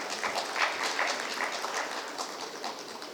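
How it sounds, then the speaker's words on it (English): Conference audience applauding, a steady, dense patter of many hands clapping for a few seconds, moderately distant and gradually easing off. "Let us have a big round of applause."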